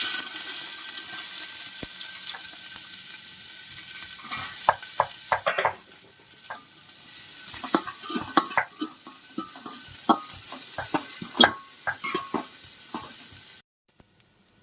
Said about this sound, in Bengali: আমাদের তেল গরম হয়ে গেছে দেখতে পাচ্ছ তো পেঁয়াজটাকে দিয়ে দিচ্ছি